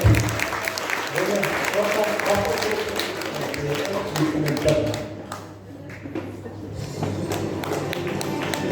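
Sustained applause from a gathered crowd at an award ceremony honouring a climber who summited Mount Everest, steady dense clapping lasting throughout with a brief dip midway, mixed with some crowd murmur.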